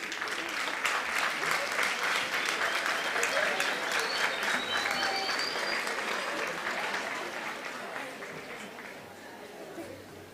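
Audience applause at a University of Namibia graduation ceremony in Windhoek, a full hall clapping steadily and then gradually tapering off, with faint murmuring and a few whistles mixed in.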